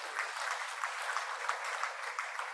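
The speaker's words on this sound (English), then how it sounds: "Another round of applause to our young agripreneurs." An audience applauds at an agribusiness youth event, a steady dense wash of clapping that holds evenly from start to finish at moderate distance.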